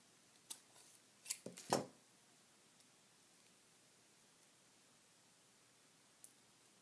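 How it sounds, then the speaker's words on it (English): Scissors snip a foam pop dot in half at a craft table, a few quick, close cuts in a short cluster, then near quiet with one faint snip later. "I think I'll cut one more pop dot in half and put it on either end."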